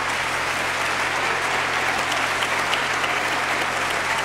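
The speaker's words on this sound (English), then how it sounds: "Give him a hand clap." An audience claps steadily for organist Eric White at a fall gospel concert, a dense and even wash of applause that holds for several seconds with no voices.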